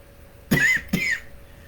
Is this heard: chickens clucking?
no